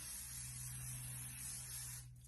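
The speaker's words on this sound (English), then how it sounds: "I'll go ahead and put my medium finishing spray all throughout" A steady, close hiss of aerosol medium finishing hair spray runs continuously for about two seconds outdoors on a windy day, then tapers off at the end.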